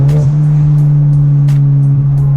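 A Ford Mustang EcoBoost fitted with an Airaid cold air intake pulls hard in third gear with a steady, loud engine drone heard from inside the cabin, a brief dip near the start and end marking throttle shifts.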